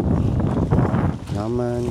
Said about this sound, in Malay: Angin sentiasa bertiup.